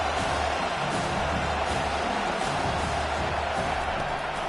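Stadium crowd in the NCAA 25 college football video game, a steady broad roar of cheering at moderate loudness, continuous and even throughout.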